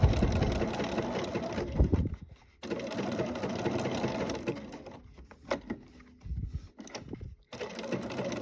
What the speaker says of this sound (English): I'll take a few back stitches just to make sure it's secure, and then I'll just keep going.